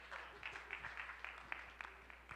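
Small audience at an eighth grade transition night presentation clapping briefly, a soft, thin patter of scattered hands at a distance with low room hum underneath.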